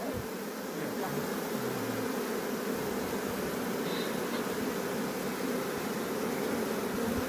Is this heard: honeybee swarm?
yes